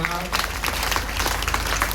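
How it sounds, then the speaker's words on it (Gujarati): Crowd at a devotional satsang gathering at Gogadham clapping in honour of Praveen Bapu's mother, a loose patter of hands under continuous talk and background noise. "એક પ્રવીણ બાપુની મમ્મી મા માટે તાળી પાડે"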